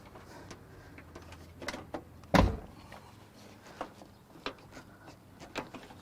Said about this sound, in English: All right, we're gonna open the door.